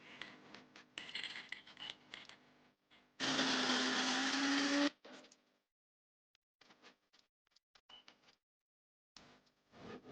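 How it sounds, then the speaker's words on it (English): A coffee grinder grinding cacao beans whirs loudly and steadily for about two seconds, surrounded by quieter clicks, taps and handling noises before and after. "Then I ground the beans in a coffee grinder."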